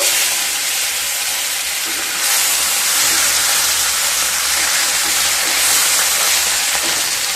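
Fish, mouri parshe, frying in hot mustard oil in a pan after being flipped, a steady close broadband sizzle with slight swells in intensity and no talk throughout.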